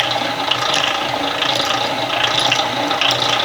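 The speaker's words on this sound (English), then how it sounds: "this is a manual extractor. I'm not sure if you can see the handle, but I'm just rotating, and it starts slinging the honey out to the side" A manual stainless steel honey extractor is cranked by hand, giving a steady whirring, rattling mechanical churn with faint ratchet-like clicks, continuous and close throughout.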